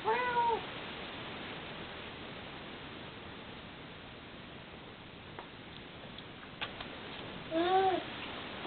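A cat meows at the start and again near the end, two short clear calls over steady background hiss in a home on Easter morning.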